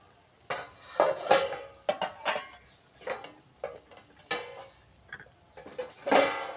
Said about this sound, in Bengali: ঢাকাটা খুলে নেব, এবার খুলে দেখি